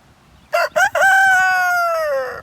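A single loud, close rooster crow, two short opening notes followed by a long drawn-out call that fades at the end.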